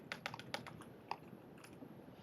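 Computer keyboard keys are tapped in a short, uneven burst of quiet clicks with a few sharper strokes, close by and with no voices.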